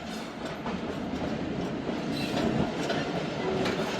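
Thal Express train at Kalur Kot railway station, a steady rumbling rolling noise with faint clickety-clack of wheels and occasional squeal, continuous throughout at moderate level.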